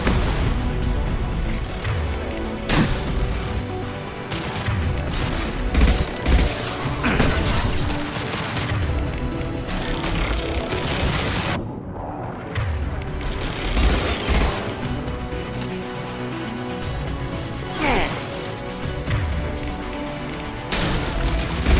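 Gunfire rattles through a Mass Effect 2 combat scene in loud, dense fusillades and sharp impacts mixed with mechanical clanks and booms, nearly continuous, with game music and shouted voices underneath.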